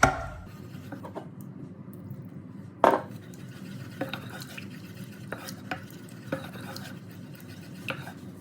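A spoon stirs milk into a flour and margarine sauce in a pan on the hob, giving soft continuous scraping with scattered light clinks against the pan. A sharper knock lands near the middle.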